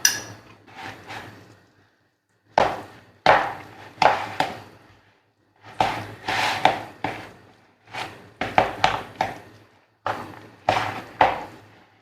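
A knife chops through fresh tomatoes in sharp, close knocks against a hard surface, coming in quick bursts of two to five strokes separated by short silent pauses.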